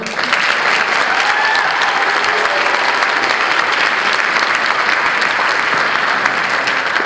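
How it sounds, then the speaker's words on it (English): A large audience at a high school marching band concert claps loudly and continuously to welcome the Maine West color guard, a full, even roar of applause sustained throughout. "Let's show our support with some nice rounds of applause."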